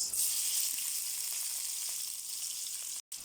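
Onions sizzling in hot ghee in a pan, a steady bright frying hiss close up and continuous, with a brief cutout near the end and no talking.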